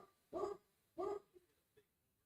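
A dog yelps to be let inside: two short, strained yelps in quick succession, then a couple of faint whimpery squeaks. It is fairly quiet and somewhat distant.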